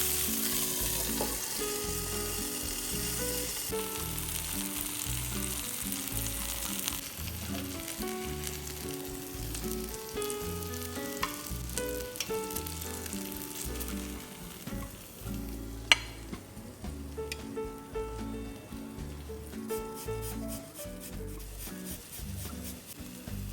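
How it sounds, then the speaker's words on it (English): Sea bass fillets sizzle and fry in a hot pan, a steady, loud crackle that lasts throughout with light stirring noises and no talk. "Now flip them gently and cook 4 more minutes on this side."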